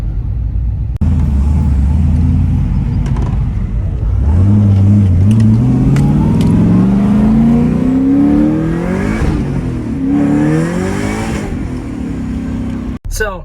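An LSA-powered Chevrolet Camaro accelerates hard through gears, its loud, close engine note climbing steadily, dropping briefly at a shift, then rising again before cutting off.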